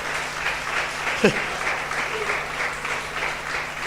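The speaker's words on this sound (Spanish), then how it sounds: "Yo creo que tú puedes darle un aplauso al Señor" Steady applause from a church congregation during a sermon, with a brief louder shout or cry partway through.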